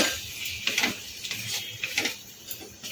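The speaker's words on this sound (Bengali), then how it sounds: "লাউটা দিয়ে ভালো করে নেড়ে চেড়ে নেব" A utensil scrapes and taps against a pan while bottle gourd (lau) is stirred, irregular clinks and scrapes close by, moderately loud, with no talking.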